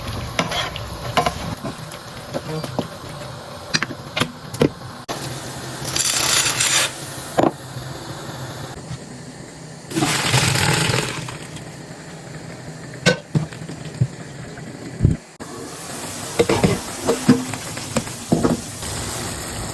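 Chicken pieces sear in a hot pan, bursts of loud sizzling rising and fading between scraping stirs and sharp utensil knocks, close by and without talk.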